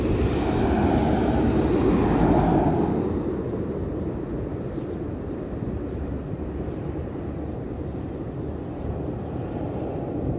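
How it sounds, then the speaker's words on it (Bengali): A loud, continuous engine roar of passing traffic in Saudi Arabia, swelling at first and then settling into a steady rumble. "গাড়ি ঘোড়া আসতেছে"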